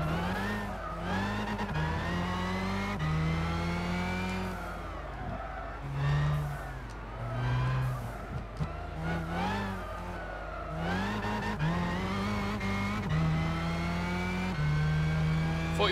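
A race car engine in Gran Turismo 6 screams steadily, revving up and down through gear changes with a brief lull midway, loud and continuous with no talk.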